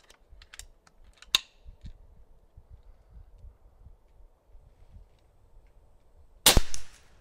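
A Niksan Ozark .22 caliber pre-charged pneumatic air rifle fires outdoors with a sharp, close crack near the end, after a quiet stretch of faint clicks and handling noises.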